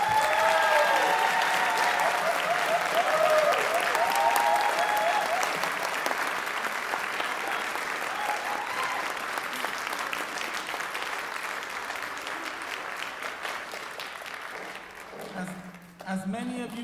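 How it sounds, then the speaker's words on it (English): A school district board meeting audience applauds the nutrition services staff, a dense, steady round of clapping that holds for about fifteen seconds before thinning out near the end. "Let's give them a round of applause."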